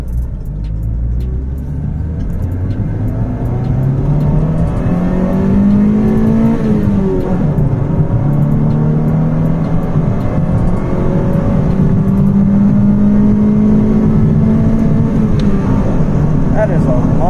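A single-cam car accelerates hard through a long second gear, its engine note climbing steadily and loud close by, with a brief dip before it keeps pulling. Someone talks over it.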